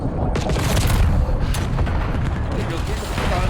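A grenade goes off in a competitive shooter match, heard as deep booming blasts and rumbling gunfire that roll on continuously, with a voice talking over the top.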